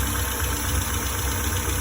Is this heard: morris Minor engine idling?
yes